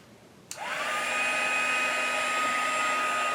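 A heat embossing tool switches on with a sharp click and then blows a steady, loud, even whir over a tin being heated for deep-impression embossing, continuing without a break.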